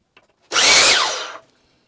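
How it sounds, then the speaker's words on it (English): A cutoff saw slices through a piece of wooden trim for a playhouse corner in one loud, close burst of about a second, with the blade whining as it bites and then spinning down. "The cutoff works pretty good. I'm just going to cut that like that, and that will make the return on the corner."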